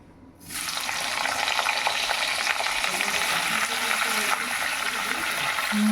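Loud, steady sizzling of cauliflower frying in a wok, starting abruptly after a brief quiet moment and continuing without pause.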